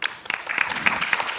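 An audience claps after a presentation in a brief burst of scattered, fairly close applause with individual claps standing out.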